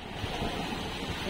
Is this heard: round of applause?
no